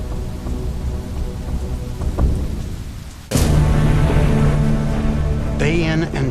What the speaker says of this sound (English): Day in and day out, the caustic liquid rains down on every corner of the globe